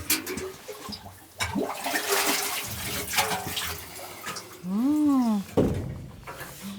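Water splashing and pouring as it is drawn from a village well in rural Russia, with faint voices in the background.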